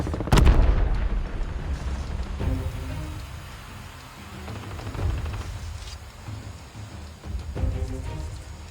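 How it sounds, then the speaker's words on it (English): A single loud, sharp sniper shot cracks at the start in a Call of Duty Mobile battle royale match near a tower in Black Market, then fades into a steady rain-like ambient wash with faint distant rumbles. "Looks like they're shooting at each other."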